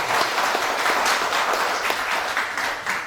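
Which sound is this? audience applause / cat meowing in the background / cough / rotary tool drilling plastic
audience applause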